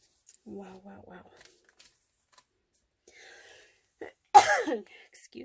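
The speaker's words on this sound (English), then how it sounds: "That was a cough, not a sneeze." A single sharp cough bursts out after a stretch of quiet murmured speech, loud and close, followed by a short breathy trail.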